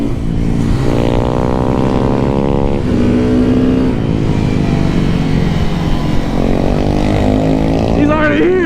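Several Honda Grom motorcycles in a mock race at Bushnell, engines revving and accelerating through rising and falling gear pulls, loud and close with overlapping bikes, and people talking and calling out over them.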